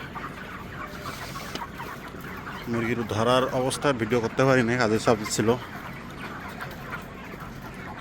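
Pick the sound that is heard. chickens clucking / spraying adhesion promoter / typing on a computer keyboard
chickens clucking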